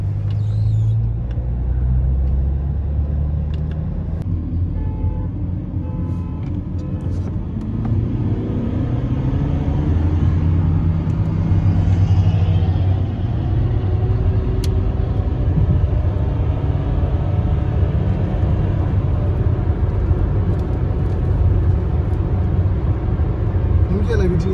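Chevrolet Cruze automatic and manual cars accelerating in a rolling drag race from 40 km/h in second gear, deep engine rumble swelling and building over about twenty seconds, loud and close with heavy wind noise.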